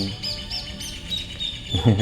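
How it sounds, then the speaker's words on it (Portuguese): Small birds chirp in quick high tweets near a parked motorcycle, a few short calls repeating over quiet background hum, with a brief low thump near the end. "olha lá, os passarinhos que eu falei"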